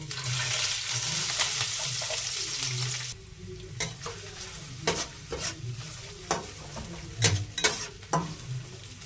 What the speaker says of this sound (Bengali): পেঁয়াজগুলো হালকা হালকা করে ভেজে নিয়েছি